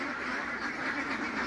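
Many ducks on a 250-duck farm quack together in a dense, continuous chorus, loud and close, with no voices over it.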